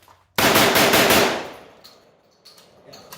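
A Kalashnikov USA Komrad 12 shotgun fires a quick burst of loud, close shots outdoors, followed by a trailing echo and a few faint clicks.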